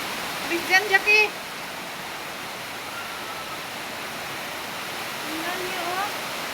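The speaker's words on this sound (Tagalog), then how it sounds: "Oh, grabe, biglang lakas ng hangin" A steady roar of typhoon wind-driven rain fills the clip, a broad hissing wash with brief voices calling near the start.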